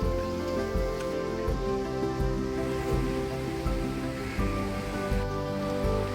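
Steady rain patters on a surface with a constant wash of drops, accompanied by sustained tonal music.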